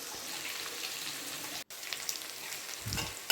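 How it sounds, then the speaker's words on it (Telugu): Chicken fry sizzles steadily in a pan while being stirred, a close, even crackle with a brief scrape near the end and no talking. "పచ్చివాసన పోయేంత వరకు ఫ్రై చేసి తిప్పుకుంటూనే ఉండాలి"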